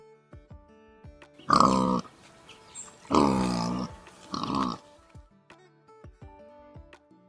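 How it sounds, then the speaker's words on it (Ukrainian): Three loud, rough grunting bursts from a wild boar, each lasting about half a second with short quiet gaps between them, heard clearly with no talking over them. "Це кабан"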